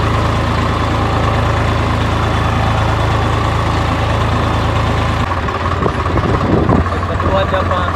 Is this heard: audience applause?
no